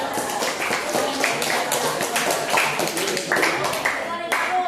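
Students in a classroom clap for the winning team, a close, fairly loud patter of individual hand claps with a rhythmic, slightly uneven beat, voices mixed in beneath.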